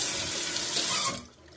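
Water running from a kitchen tap, a steady close hiss of flowing water that cuts off sharply near the end.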